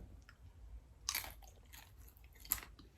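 Crunchy Taco Bell nachos are chewed up close, with quiet, steady mouth sounds broken by two sharp, loud crunches about a second and a half apart, and no speech.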